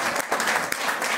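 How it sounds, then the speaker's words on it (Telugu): A church congregation claps together in a dense, steady burst of applause filling the hall, brief and fairly loud. "అందరూ ఒకసారి చప్పట్లు కొట్టి"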